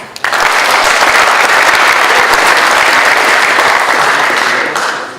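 Loud, sustained audience applause fills a high school hall at a Massachusetts congressional district debate, starting abruptly and holding steady for about five seconds before fading.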